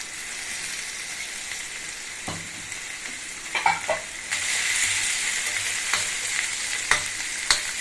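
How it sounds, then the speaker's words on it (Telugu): Coconut pieces fry in hot oil on a stove, a steady close sizzle with scattered stirring scrapes and spatter pops, growing slightly louder partway through. "బాగా ఎర్ర వేయించుకోవాలి కొబ్బరిని"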